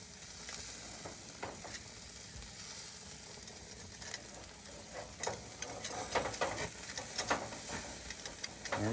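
Oysters sizzle on a hot grill, a steady close crackle and hiss with scattered pops and a few scraping taps, no talk.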